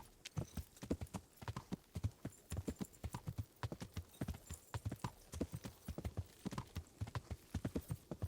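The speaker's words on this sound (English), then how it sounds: "I've got to hoof it back on over to the Bauer farm. Horse!" Horse hooves clip-clop at a steady trot in the video game Kingdom Come: Deliverance, a quick, even run of clear hoof strikes throughout, fairly quiet, with no talking.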